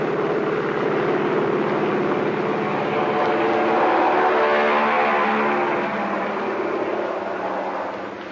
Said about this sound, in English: The pilot revs up his motors. Fly 1 points down the deck and the plane is off.